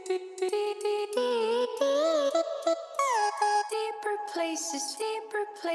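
A synthesizer built from a sampled vocal singing the sound "D", played in a looped melodic line with gliding pitches and a lower octave layer, clear and up front with no talking.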